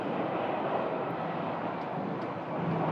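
An Airbus A320 airliner at Phoenix Sky Harbor Airport gives a broad, steady jet engine roar, loud and continuous with no break across three seconds.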